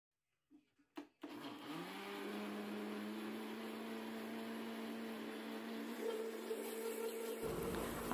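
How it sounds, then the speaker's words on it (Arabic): After a couple of clicks, a food processor starts up blending tahini paste, running with a steady motor hum and whir, fairly quiet and continuous to the end. "ونفضل نضرب بيه لغاية لما يبقى ملمسه كريمي"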